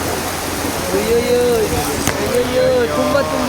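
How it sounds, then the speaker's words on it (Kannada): Rain beginning to fall at Kottiyoor Temple in Kerala makes a steady, even hiss, with people talking close by over it. "ಮಳೆ ಸ್ಟಾರ್ಟ್ ಆಯ್ತು"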